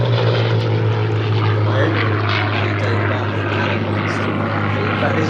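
A propeller aeroplane flying a display at Sywell Airshow drones past with a loud, steady engine tone that stays strong and even throughout.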